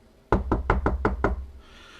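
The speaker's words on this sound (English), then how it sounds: "He knocks on the door." Six sharp knocks rap on an office door at the far end of a mill floor, in a quick, fairly even run, close and alone.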